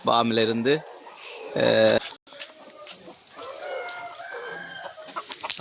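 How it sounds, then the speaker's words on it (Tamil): Black chickens cluck and a rooster crows loudly up close, with more scattered clucking and farmyard noise continuing behind. "இப்பொழுது நாங்கள் இந்த கருங்கோழி எல்லாம் ரெடியாக வெளிக்கிடுது பாருங்கள்"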